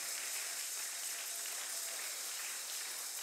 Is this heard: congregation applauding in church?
yes